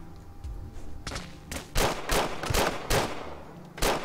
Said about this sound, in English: I got my 2 shots in.